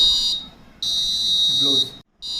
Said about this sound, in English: there is a system print, the gas leakage detected, and now our buzzer